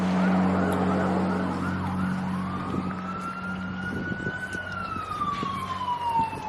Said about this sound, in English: There's some sirens going on in the background